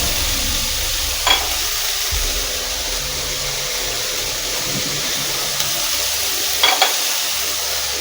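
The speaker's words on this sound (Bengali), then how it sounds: "কড়াইয়ে যে লাউয়ের খোসা ভাজাটা হচ্ছিল" Bottle gourd peel frying in a little hot oil in a wok, a steady close sizzle running throughout with occasional scraping stir sounds.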